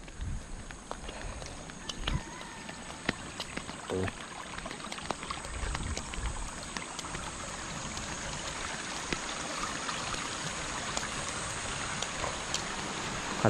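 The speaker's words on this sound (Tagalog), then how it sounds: "Kalmado ang ilog." A calm river flows steadily in a rural farm setting near a small bridge, giving a continuous, even wash of water with soft trickling throughout.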